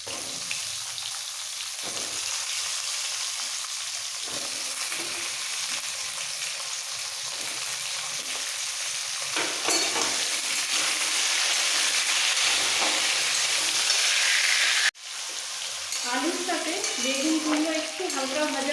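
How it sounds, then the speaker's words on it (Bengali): Eggplant and pumpkin frying in a pan give a continuous loud sizzle that briefly cuts off, then resumes with faint clatter. "হালকা ভাজা হয়ে গেছে এবার দিয়ে দিচ্ছি বেগুন আর কুমড়ো"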